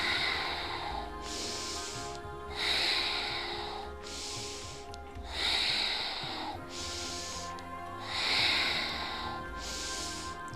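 Rhythmic yoga breathing during a Kundalini yoga class, with strong audible inhales and exhales alternating in a steady repeating cycle, close and fairly loud, with no talking.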